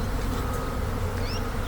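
Honey bees buzz steadily in an open hive during a fall inspection, a dense, continuous close-up drone with no talking.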